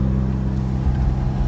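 A Mazda RX-7 FC cruises beside a lake, its engine giving a steady low drone heard from inside the car, loud and continuous with no talking.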